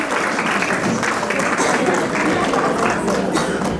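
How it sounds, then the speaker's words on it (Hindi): Loud, dense applause fills a hall as a school annual day audience claps steadily for young award winners at a play school, with faint voices mixed into the clapping. "जोरदार तालियां बजाइए।"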